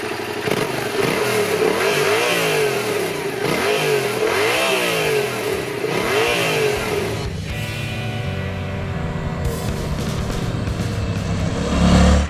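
Yamaha Tracer 700 motorcycle with its CP2 crossplane twin engine, loud and close, revving repeatedly in rising and falling sweeps, then settling into a steadier running note.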